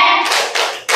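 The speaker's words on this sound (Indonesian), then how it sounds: "Ya, kita kasih tepuk wow." Hand clapping from a group comes in a few short rhythmic bursts, close and fairly loud, with no voices over it.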